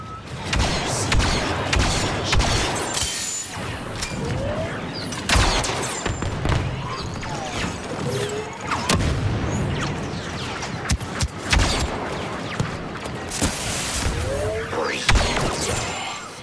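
Blaster gunfire from Star Wars Battlefront 2, dense bursts of shots over a constant game soundscape with crashes and mechanical noise, loud and continuous throughout.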